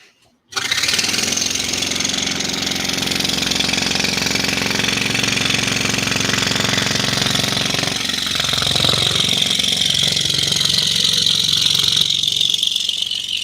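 A saw cuts through a big wooden board for a Valentine's Day craft. After a brief quiet start it kicks into a loud, steady motorized whine that holds for over twelve seconds, its high edge shifting near the end.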